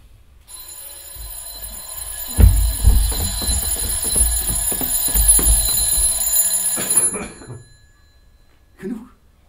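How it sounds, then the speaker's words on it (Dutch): A mechanical alarm clock rings loudly in a rapid, continuous bell clatter for several seconds, then stops abruptly, followed by a brief voice. "De wekker."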